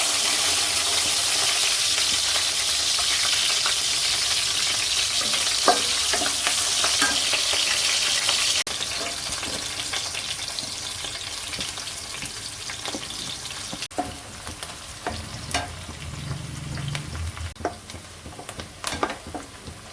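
Green chillies sizzle and fry in a pan with biryani masala for paneer pulao, a loud steady crackle that eases after a few seconds into quieter sizzling with stirring scrapes and clinks.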